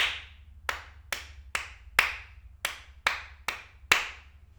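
A single person's hands clap out a counted rhythmic pattern, with about nine crisp, close claps in an uneven grouping that rings briefly in a quiet room.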